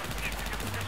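A short, dense burst of automatic gunfire comes from the video game Battlefield 4, in the Siege of Shanghai map. The rapid shots blur into one loud, continuous rattle under the game's background noise.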